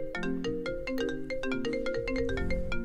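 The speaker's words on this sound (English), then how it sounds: "Why is it ringing twice?" A phone rings with a tuneful electronic ringtone, a steady run of bright repeating notes over a low hum that carries on through the whole stretch.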